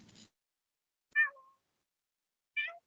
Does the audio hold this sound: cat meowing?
yes